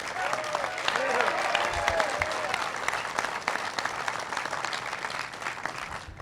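An audience at the opening of a university sports medicine institute bursts into a big round of applause for an honoree, steady dense clapping sustained throughout with some voices mixed in.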